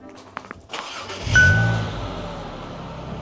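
A car engine starts up and settles into a low, steady running rumble as the car is moved, with a brief rev near the start and no talking.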